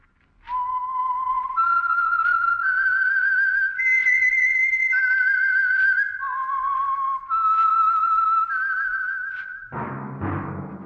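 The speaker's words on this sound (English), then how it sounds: "That whistle is your signal for the Signal Oil Program, The Whistler." A lone whistler carries a bright, steady melody serving as the signature signal tune of the NBC radio show The Whistler, sponsored by Signal Oil, rising and falling in sustained notes for about nine seconds before cutting to a brief burst of other sound.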